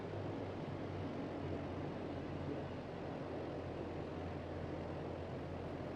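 A Grumman G-111 Albatross amphibious flying boat in the flight simulator MSFS 2024, a steady, low engine drone holding even as the plane comes in to land, no voices heard.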